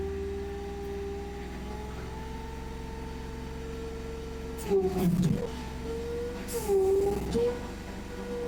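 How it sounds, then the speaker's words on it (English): A mini excavator for a one-ton machine runs steadily with its throttle opened to a normal range, giving a constant droning hum with two brief louder surges partway through, close by and with no talking. "we'll open the throttle up to like a normal range"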